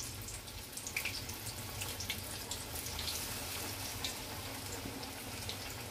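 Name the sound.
battered pumpkin pieces deep-frying in hot oil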